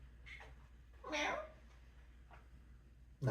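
A cat meows a few times, one louder drawn-out meow in the middle and softer short ones around it, close by in a quiet room.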